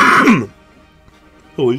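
Two short throaty coughs or throat clears during a Pokemon Sword stream, one at the start and another after a brief pause, close and loud.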